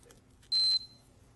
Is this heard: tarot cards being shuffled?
no